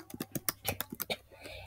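Chromebook keyboard being typed on in a school setting, a quick uneven patter of soft close clicks that thins out toward the end.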